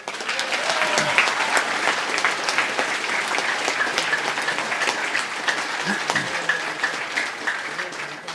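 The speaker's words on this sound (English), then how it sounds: "So a big cheer for Kinvara, huge effort." After a Galway intermediate hurling final, a crowd applauds steadily, dense clapping held at an even level throughout with a voice or two faintly heard beneath it.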